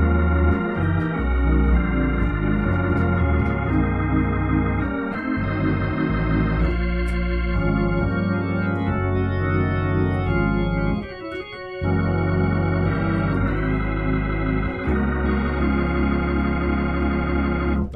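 A Hammond A100 organ plays a sustained, full-toned passage with rich held chords and a moving bass line, loud and continuous with one brief dip, with no talking.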